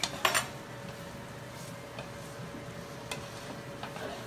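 Garlic goes into a pan of butter and steak bites with a soft sizzle, a few sharp utensil clinks and scrapes against the pan, fairly faint and close.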